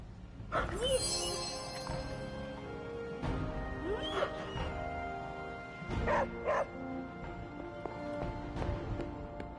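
Dog Charlie barking in the video game Marvel Midnight Suns: several bark-and-yip bursts spread across the clip, a voice talking between them over a steady game soundtrack.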